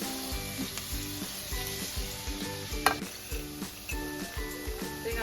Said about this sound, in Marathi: तेल आता छान तापलंय. आपण त्यामध्ये कांदा टाकू आणि त्यासोबतच शिमला मिरची पण टाकू